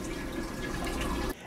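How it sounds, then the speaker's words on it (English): In a Margaritaville at Sea Paradise cruise ship cabin bathroom, a toilet flushes with a loud, dense whoosh of rushing water that stops abruptly near the end, with no voices. "And now the terrifying toilet noise."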